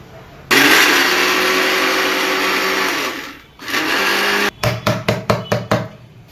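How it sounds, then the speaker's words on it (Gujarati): A mixer grinder whirs loudly as it crushes 100 grams of salt for chaas masala, running steadily for several seconds, dipping briefly, then restarting and ending in a series of short rapid pulses. "100 ગ્રામ નમક નાખ્યું છે અને મિક્સરમાં સેજ પીસી નાખીએ"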